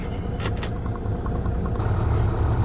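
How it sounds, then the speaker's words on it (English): A pickup truck's engine rumbles steadily as it drives slowly around a campground, a low continuous drone with brief higher-pitched bursts near the start and a few faint ticks. "We'll actually have to drive around the campground to turn the truck around, get it hooked up."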